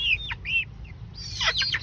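Local-breed chickens on a poultry farm cluck and squawk in short, sharp bursts close by, with a brief pause between calls.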